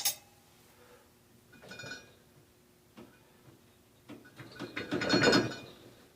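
A wrench works on the brake of a Schwinn Prelude bicycle, shifting and centring the caliper near the fender. Sparse metallic ticks and clinks come close up, building to a louder burst of scraping and clicking near the end.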